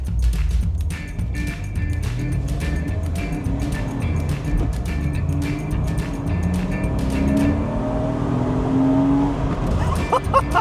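Porsche Boxster 986 S mid-engine flat-six running loud and close, a steady deep drone with rising and falling revs throughout, with no break in the engine note.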